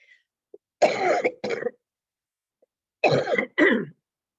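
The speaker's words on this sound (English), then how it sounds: "I've not been coughing all day. I don't know what started this." Coughing from a person giving a talk: two bursts of harsh, close coughs, each a pair of hacks with silence between them.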